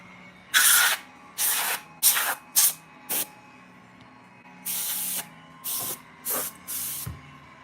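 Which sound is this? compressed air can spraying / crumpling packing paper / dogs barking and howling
compressed air can spraying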